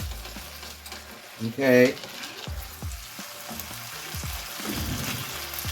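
A stuffed honey mustard roasted chicken sizzles and fries steadily in its dish, a soft continuous crackle with stirring clatter and a brief louder burst near the start, while a voice speaks briefly.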